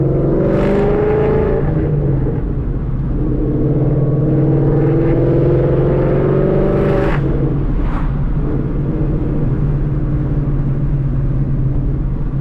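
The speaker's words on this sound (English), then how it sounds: "it's like a chatter. Let me get close. Maybe it's gonna be able to capture it. And then I push the clutch in, it's gone" An 800 hp car with a new twin-disc clutch runs loud and close, holding a steady low engine drone with a rough, chattering undertone and brief brighter surges.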